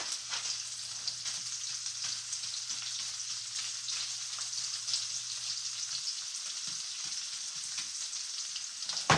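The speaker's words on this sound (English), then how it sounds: "So now I'm putting in the sausage, which is already cooked." Pre-cooked beef sausage crisping in a pan gives a steady, close sizzle with a constant bright hiss and occasional faint stirring scrapes, no voices.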